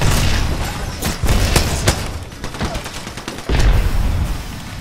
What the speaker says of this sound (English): Hit all of them with that nade.